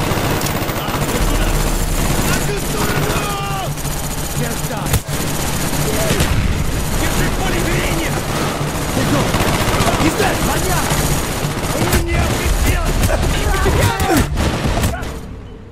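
Heavy automatic gunfire and bursts rattle almost nonstop during a Call of Duty Black Ops battle at Mount Yamantau, loud and close, with soldiers shouting over the din.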